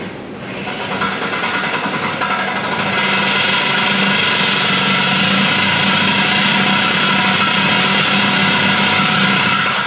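A power saw blade cuts through the exhaust pipe of a Dodge Durango R/T, a loud, continuous, harsh grinding buzz that is close and steady throughout, with no talking.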